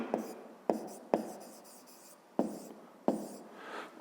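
Pencil writing on paper during a fifth-grade math exercise, heard as close, dry scratching strokes in short bursts separated by sharp taps, with no talk.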